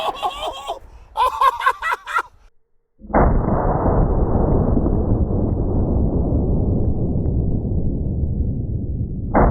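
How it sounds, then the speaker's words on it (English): A 700 Nitro Express rifle loaded with rat shot fires one huge, close blast that rings out and decays slowly across several seconds, following brief laughter and chatter beforehand. "now we're gonna see what happens when we hit it with 700 Nitro rat shot"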